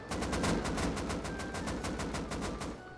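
Rapid automatic gunfire from the survival video game Rust rattles off in a dense, steady stream of evenly spaced shots, loud and close, continuing through nearly the whole three seconds with no talk over it.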